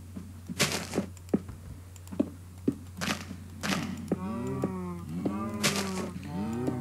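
Several deep cow moos in Minecraft, drawn out and overlapping in the second half, with a few sharp clicks and knocks earlier over a low steady hum.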